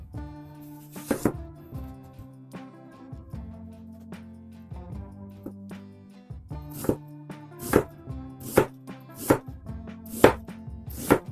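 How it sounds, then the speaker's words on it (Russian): A knife slices an onion into half rings on a cutting board for homemade plov. A steady run of crisp chops and board knocks grows sharper and more regular toward the end, over faint background music with no speech. "Луковицу нарезаем на полукольца."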